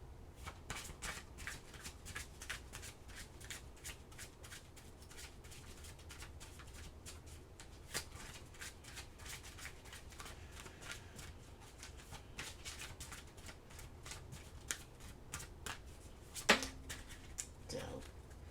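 Tarot cards are shuffled in a quick, soft, continuous riffle and flutter, close but quiet, with a sharper snap near the end and faint speech in places.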